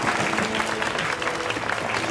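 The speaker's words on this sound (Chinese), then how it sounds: "愣着干嘛呀？鼓掌啊！" A classroom of students clapping to welcome a new classmate: dense, brisk applause from a whole group, close and steady for a couple of seconds.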